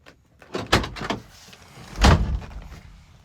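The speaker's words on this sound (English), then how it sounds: "Car has newer door seals, so you do have to put some muscle in there closing it" Two solid car door thuds on a restored 1968 Pontiac Firebird Sprint with newer, stiff door seals, the second heavier and more forceful, close by with a short rattle around the first.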